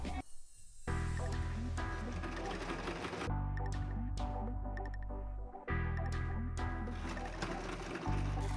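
Sewing machine top stitching folded fabric for a pinafore pocket, running in a steady loud whir with two brief pauses and restarts.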